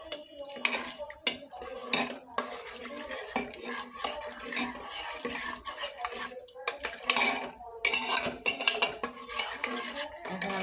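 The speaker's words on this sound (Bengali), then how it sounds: "পানি দিয়ে এটা আমি ভালোভাবে নাড়াচাড়া করে নিচ্ছি।" Lentils being stirred and swished in water in a metal pot, with repeated scraping and clinking of utensil against the pot and watery sloshing, close and busy throughout.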